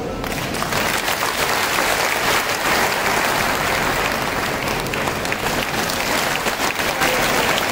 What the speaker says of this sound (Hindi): तालियां थोड़ी कम करो।